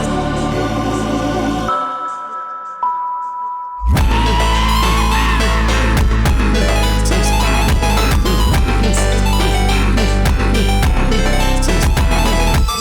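A phonk track built from Incredibox Sprunki Retake Phase 3 sounds: a short filtered intro and a brief near-silence, then a loud beat drops with heavy bass, punchy drums and dense layered synth loops, no speech.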